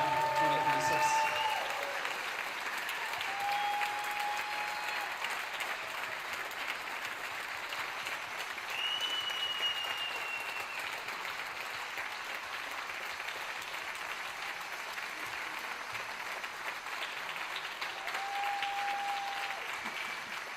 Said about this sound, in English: can we give a round of applause for the senior class, the Boardman Band 2026